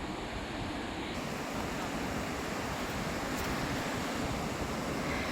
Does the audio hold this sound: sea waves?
yes